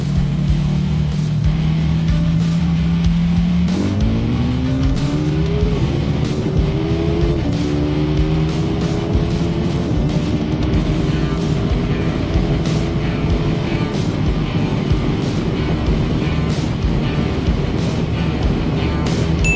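A KTM Duke motorcycle accelerates hard toward its top speed, its engine note climbing in steps through several gear changes and then holding a loud, high, sustained drone under constant rushing wind roar.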